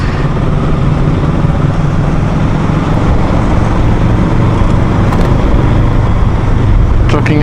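Honda VFR800F motorcycle on a ride, a steady engine drone mixed with heavy wind and road roar that continues without a break.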